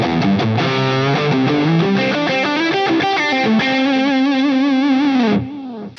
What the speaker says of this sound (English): it really has a lot of beautiful searing overdrive to it